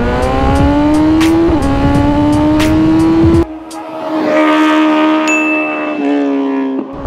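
A 2022 BMW S1000RR sportbike with a full-system aftermarket exhaust revs loudly up close, its harsh engine note climbing in two long sweeps with a sharp drop between them.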